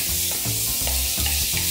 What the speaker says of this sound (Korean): 냄비에 들기름 두르고 소고기를 볶다가